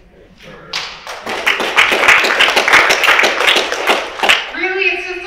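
A small audience claps together in a dense, close burst that swells for several seconds and then tapers off.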